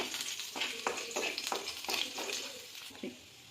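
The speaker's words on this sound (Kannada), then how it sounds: "ಬೆಳ್ಳುಳ್ಳಿ ಗಾರ್ಲಿಕ್ ಹಾಕಿ ಅದನ್ನ ನೀಟಾಗಿ ಫ್ರೈ ಮಾಡ್ಕೊತಾ ಇದ್ದಾರೆ" Garlic fries in a pan with cumin in a home kitchen, giving a faint crackling sizzle broken by a few soft scraping stirs.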